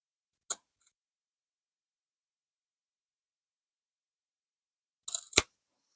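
Scissors cut fabric scraps for textile art in a quiet room, giving one short sharp snip followed after a long silence by a quick double snip.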